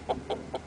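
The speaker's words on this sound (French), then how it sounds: "je vais vous montrer mon coq que j'ai acheté ce matin" A rooster just bought that morning gives three short, evenly spaced clucking calls, close and fairly quiet against a low background hum.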